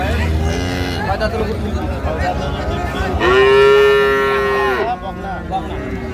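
A cow gives one long, loud moo over a steady background of voices and outdoor noise at a cattle market where dairy cows and calves are sold.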